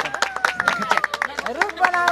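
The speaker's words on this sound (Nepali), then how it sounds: "रेडी सेलिब्रिटीको लागि ताली" A crowd claps for a celebrity at a tree-planting inauguration in Nepal: scattered, uneven hand claps under continuous talking and chatter nearby.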